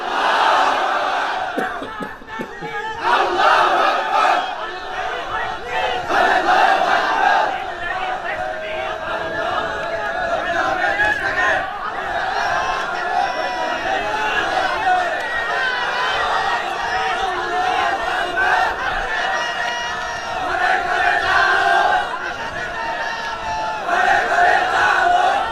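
A large religious gathering at a Bengali waz sermon roars back in unison, a sustained crowd chant of repeated shouts rising and falling over about twenty-five seconds.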